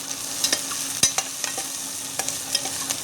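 Garlic and curry leaves frying in a pan, with a steady crackling sizzle and several sharp stirring clinks and scrapes spread across the few seconds, close and moderately loud, no voices.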